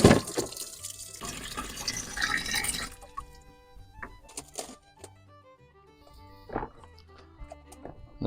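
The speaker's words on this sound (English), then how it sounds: "Just going to rinse all this sawdust out of it first" Water pours into a tub to rinse out sawdust. A steady gushing stream runs for about three seconds, then stops and gives way to scattered drips and small splashes.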